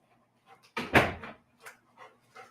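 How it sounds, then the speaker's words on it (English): A dog moves around indoors, giving a louder burst of shuffling and breathing followed by several short, soft panting puffs spaced across the quiet. "Let me go see if my dog is down here"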